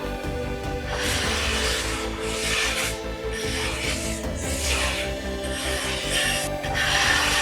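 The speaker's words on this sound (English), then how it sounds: "Oh, this is planing really well." Hand plane shaving a wooden guitar fretboard, repeated rasping strokes of steel on wood in an even back-and-forth rhythm, close and clear with no talking.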